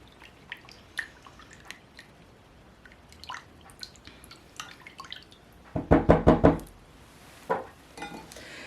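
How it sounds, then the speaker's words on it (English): A spoon stirring a homemade baking soda deodorant mixture gives faint, scattered clinks and scrapes, then a short cluster of louder knocks against the bowl, with no one talking. "I like to stir stuff in between so it's not lumping."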